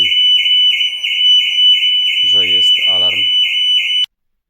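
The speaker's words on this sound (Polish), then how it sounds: "Alarm fabryczny się wzbudził." A loud, continuous factory car alarm on a 2025 Audi Q3 blares close by, with a voice speaking briefly underneath, then cuts off abruptly near the end.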